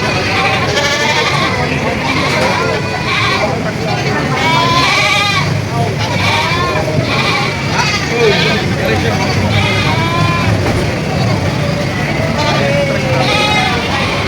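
Many goats bleating at once at a goat market, overlapping wavering cries close and loud, over a constant bustle of crowd chatter and background noise.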